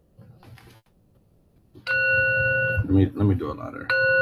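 A sound bowl rings out twice, each time with a sustained, bell-like tone rich in overtones. A person speaks between the two strikes.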